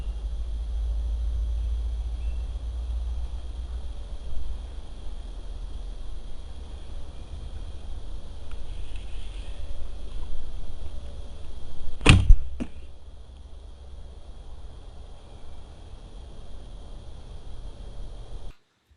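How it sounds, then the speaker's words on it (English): Woodland ambience in an Illinois forest during archery season: a low, steady wind rumble through the trees with faint insect tones above it and one sharp snap partway through. "The wind in the trees, the bugs, the birds, the critters rustling around in the leaves and underbrush."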